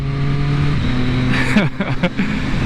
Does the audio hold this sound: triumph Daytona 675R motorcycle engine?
yes